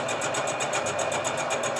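A milling machine skims a car engine's cylinder head, giving a steady high-pitched whirring cut with a fast, regular pulsing, close and continuous.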